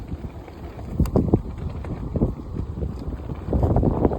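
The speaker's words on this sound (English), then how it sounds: "This wind is super annoying because I'm driving the pram one-handed, but I'm also battling the wind" Strong wind blowing outdoors on a very windy day while a pram is pushed, loud gusty buffeting and rumbling against the microphone in uneven surges, with the strongest bursts near the start and end.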